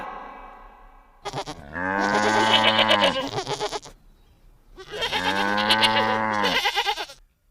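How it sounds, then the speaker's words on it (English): A goat bleats twice, each a long wavering cry lasting a couple of seconds, loud and close with a pause between. "G for goat."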